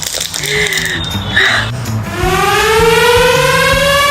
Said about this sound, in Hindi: क्या ये सायरन मेरे लिए बज रहा है?